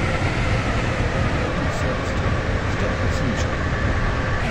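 A Stepford County Railway train in Roblox runs with a steady, loud, continuous rumble and rolling noise throughout, dense broadband sound without breaks.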